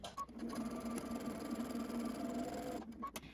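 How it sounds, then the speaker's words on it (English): A sewing machine stitching a fabric face mask runs in a short, steady mechanical whir for about two and a half seconds, close and alone, with brief clicks as it starts and stops. "Now you're going to sew again halfway to the other edge."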